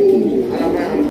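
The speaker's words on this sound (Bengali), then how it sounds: "এই জোড়াটা খুবই সুন্দর এবং হাই কোয়ালিটির এক জোড়া রেসার কবুতর।" A racer pigeon coos close by. The call is a soft, throaty, rolling coo that lasts about a second.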